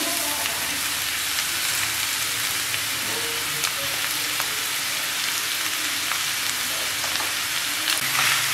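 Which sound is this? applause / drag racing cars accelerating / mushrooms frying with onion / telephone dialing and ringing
mushrooms frying with onion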